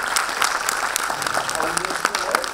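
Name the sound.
audience applauding the panelists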